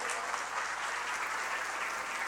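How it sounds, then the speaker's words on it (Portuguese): Steady, dense applause from a school audience at the opening of the 2022 academic year, continuous crowd clapping with no pause, heard from some distance and fairly soft. "você pode aplaudir essa verdade para você."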